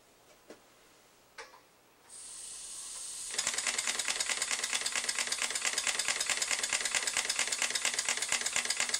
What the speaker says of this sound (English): Let's watch the steam engine run from this angle.